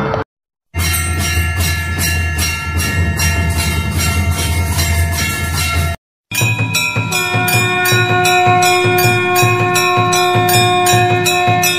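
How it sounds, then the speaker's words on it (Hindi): A conch shell, a damru drum and temple bells sound together in a loud, dense wash of ringing tones with a rattling pulse, cutting out briefly before resuming even fuller. "तभी वातावरण में शंख और डमरू तथा मंदिर के घंटों की ध्वनि गूंजने लगी।"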